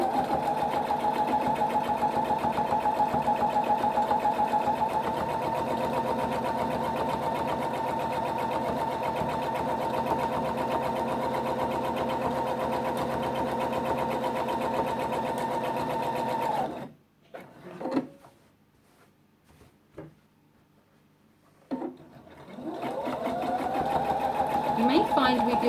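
A sewing machine runs steadily for about seventeen seconds stitching thick terry cloth for a kitchen towel, then stops for a few seconds of quiet handling before starting up again; no talk is heard over the motor.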